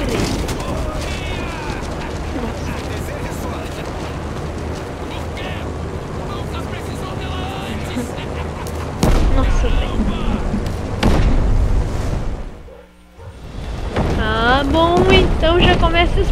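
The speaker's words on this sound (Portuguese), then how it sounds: "está explodindo tudo!" Explosions and fiery destruction in Just Cause 3, a continuous loud roar of blasts and crackling debris with a sudden heavier burst midway and a short lull near the end, under excited talk.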